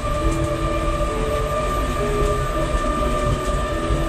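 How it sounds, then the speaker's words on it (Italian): Steady hum and rumble of a 30-meter electric monorail train running about six meters above the ground, heard from inside as a constant drone with faint rail clatter and no break. "The monorail train we are traveling with is electrically powered"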